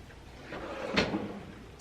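A pantry drawer slides open or shut with one brief, soft rolling scrape near the middle, fairly quiet against a hushed room background.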